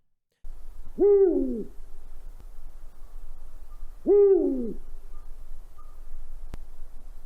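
A Eurasian eagle-owl gives two deep, resonant hoots about three seconds apart, each clear and close, over a faint steady background hiss.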